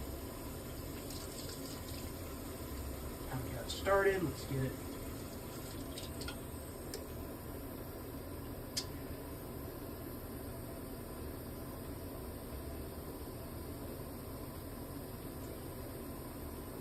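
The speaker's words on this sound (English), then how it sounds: "And then we're going to just fill up the water balloon." Tap water running into a water balloon mixed with gel-based dye indoors in a bathroom, a steady hissing gush throughout, with someone speaking briefly near the start.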